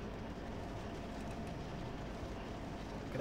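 A simulated train runs steadily on rails in Train Simulator 2018, a continuous low rumbling roll of wheels and engine that stays even throughout, quiet and without talk.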